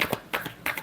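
Tarot cards being shuffled by hand in three quick riffling bursts, close and crisp, with short pauses between them.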